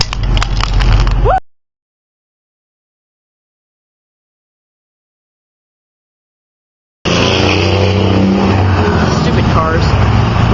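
Cars pass by on a road outdoors, a broad steady rush of traffic noise heard close and fairly loud, with a long silent gap between two stretches and a voice briefly audible at the start.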